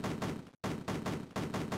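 Rhythmic gunfire in the retro video game Cannon Fodder 2, repeated bursts of shots in a steady pulse broken by a brief silent gap.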